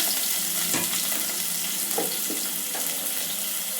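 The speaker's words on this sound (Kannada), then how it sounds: "ನಾನಿಲ್ಲಿ ಒಂದು ಈರುಳ್ಳಿನ ಕಟ್ ಮಾಡಿ ಇಟ್ಕೊಂಡಿದ್ದೀನಿ, ಅದನ್ನ ಹಾಕ್ಕೊಳ್ತೀನಿ" Chopped onion hits hot oil for a radish sambar, giving a loud, dense, continuous frying hiss with a few soft stirring knocks.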